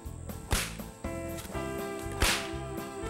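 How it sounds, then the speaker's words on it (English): A whip swung slowly while being broken in, giving two sharp cracks about two seconds apart over a sustained background of droning tones. "I just want you to seat the whip in slowly"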